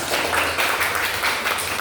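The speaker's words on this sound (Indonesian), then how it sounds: "Beri tepuk tangan untuk Cahya" Applause from a classroom group rewarding a correct quiz answer about World War II history, a dense, steady patter of clapping filling the whole stretch at moderate loudness.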